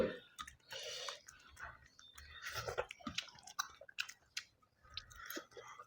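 Close, wet chewing and biting of egg dosa mixed in the mouth with chicken gravy, irregular soft smacks and crunchy clicks over about six seconds, with brief murmurs of talk in between.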